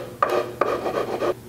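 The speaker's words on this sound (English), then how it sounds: "Then it's just a matter of sanding that repair flush with the existing wood." Rasping strokes of sandpaper on wood, about four back-and-forth passes in a steady rhythm, close and fairly loud, sanding a repair flush on an antique Gustav Stickley rocking chair.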